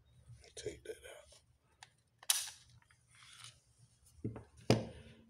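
Taurus G3c 9mm pistol magazine being removed, with a few sharp clicks and snaps standing out clearly, the loudest near the end, among soft handling noise and a brief voice.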